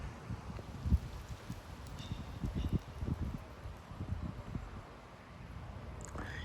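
Gusty wind of about 30 mph in Frisco, Texas, tossing trees, heard as bursts of rustling leaves and buffeting mic rumble that rise and fall, moderately loud outdoors with no talking.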